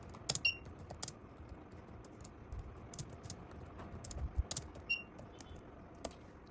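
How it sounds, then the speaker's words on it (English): Keys clack on a keyboard as a message is typed into an agriculture messaging app, irregular bursts of light close clicks with short pauses, quiet and alone. "And here I will type a message."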